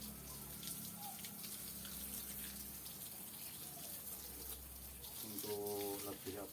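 Water sprays steadily onto freshly molded concrete roster blocks for curing, a continuous hissing gush throughout with someone talking over it.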